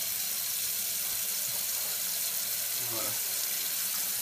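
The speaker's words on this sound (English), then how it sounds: "I'm filling up the sink with cold water" Cold tap water filling a kitchen sink for chilling home-brewed American IPA wort, a steady hissing rush of running water with a brief squeak partway through, and no talk.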